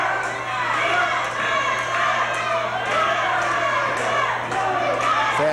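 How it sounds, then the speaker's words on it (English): A wrestling crowd in 1984 cheers and chants for Bo Beck, a loud steady roar with rhythmic shouts, heard under a commentator's voice. "Fans trying to get Beck to move as they cheer, go, Bo, go."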